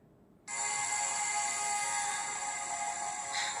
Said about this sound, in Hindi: जो म्यूजिक है प्ले हो रहा है मेरे वॉच में